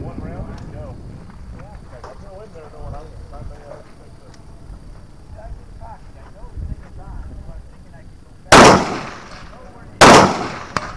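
Two sharp, loud gunshots crack about a second and a half apart at a two-gun shooting match, following a stretch of people talking outdoors.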